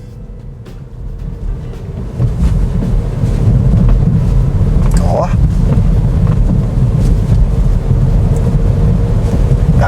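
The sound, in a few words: car driving over a suspension and interior noise test track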